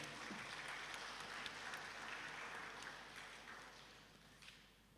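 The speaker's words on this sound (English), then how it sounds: "Probably we can say thank you to them by giving a big clap." Steady applause from a crowd at a career and student entrepreneurship fair, dense and sustained, gradually fading toward the end.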